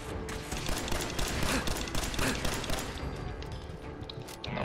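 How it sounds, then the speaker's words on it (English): Dense, continuous gunfire from the Fallout 4 video game, a loud sustained barrage of overlapping shots with crashes running for several seconds, no voices over it. "Who's shooting?"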